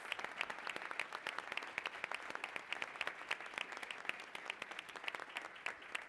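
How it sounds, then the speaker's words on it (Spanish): Conference audience applauding participants at a digital policy session in Latin America, a dense, even patter of many hands clapping steadily at a moderate distance, heard alone without talk. "por favor un aplauso para los participantes"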